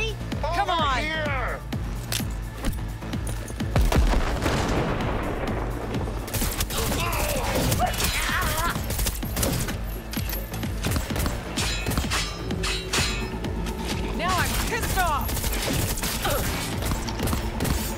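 Rapid bursts of gunfire crackle through a Cyberpunk 2077 firefight, loud volleys and single shots repeating irregularly across the stretch, with grunts and game voices mixed in between the shooting.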